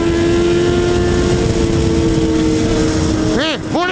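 Triumph Daytona 675 and Yamaha MT-09 motorcycles accelerate on the road, a loud sustained engine drone under wind noise, then two quick rising-and-falling revs as bikes pass close near the end.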